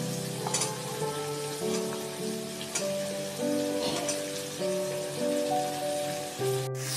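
Capsicum fries in a pan for veg pasta, making a steady crackling sizzle with scattered pops close at hand, along with occasional stirring scrapes and a sharp click near the end.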